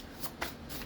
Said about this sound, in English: All right, one more shuffle and then we will take these cards.